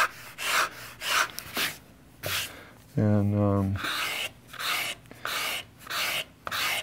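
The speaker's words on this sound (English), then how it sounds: "when we do this, that's a lower rake condition, so the scraper isn't capable of digging in very much" A hand scraper at low rake shaves the inside of a carved wooden archtop guitar plate, giving a run of short, dry rasping strokes close by. Someone briefly speaks partway through.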